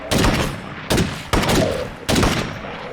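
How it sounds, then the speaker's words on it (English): Gunfire in the video game State of Decay 2, with four loud bursts of rapid shots at close range aimed at an armored zombie, separated by brief gaps and heard alone. "they're trying to shoot the armored zombie to death"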